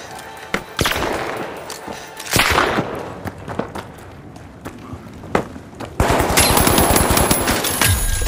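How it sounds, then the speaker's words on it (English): Gunfire in a video game, including shotgun blasts: sharp, loud single reports spaced irregularly, then a denser rapid volley of shots near the end. "Fucking shotgun."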